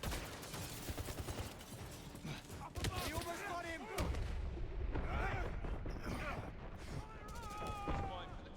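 Grenades going off in a shooter game amid steady gunfire and booming blasts, a thick, constant wall of combat noise with a heavier thump around the midpoint, while a person talks throughout.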